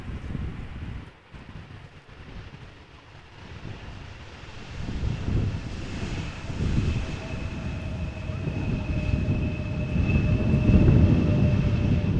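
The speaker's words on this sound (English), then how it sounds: "So this airplane arriving from Warsaw after an hour and 41 minutes of flying" An airliner from Warsaw landing at Amsterdam Schiphol in crosswind conditions: a low jet rumble with a faint whine grows steadily louder, mixed with wind noise.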